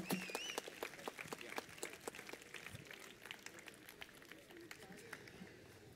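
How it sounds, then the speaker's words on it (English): Scattered outdoor clapping from a small crowd gathered for a church fun run, individual claps ringing out sparsely and faintly in open air, fairly distant and thinning toward the end. "Let's give him a big round of applause here."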